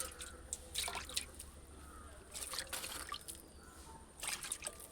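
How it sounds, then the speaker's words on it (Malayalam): Water poured by hand onto garden soil in a home kitchen garden, heard as light dripping and trickling bursts in a few separate pours. "ഇട്ടോട്, വെള്ളം ഒഴിച്ചോട്."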